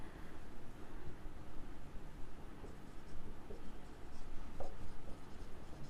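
Accounting entries being written by hand on paper or a board, giving a continuous close scratching of the writing tool with small irregular strokes and no talking.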